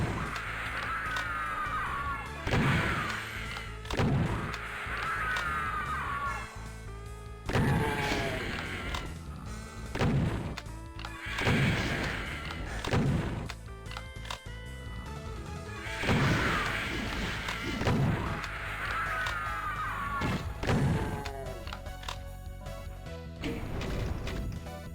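Repeated heavy explosion blasts from rocket launcher fire in the first-person shooter Doom map Eviternity II, booming roughly every couple of seconds amid screeching monster cries and constant game noise.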